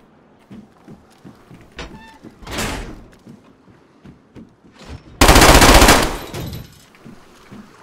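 Gunfire in the video game DayZ: a couple of single loud shots followed by a roaring burst of rapid automatic fire lasting about a second, with faint chatter underneath.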